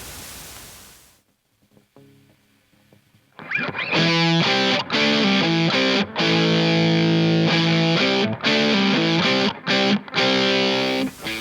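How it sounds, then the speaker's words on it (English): A heavily distorted electric guitar, played through a Flamma Black Distortion rat-clone pedal, plays chords after a quiet intro, loud and gritty, with brief gaps between phrases. "I snuck in another inexpensive distortion pedal, rat clone this time"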